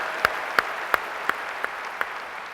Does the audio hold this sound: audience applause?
yes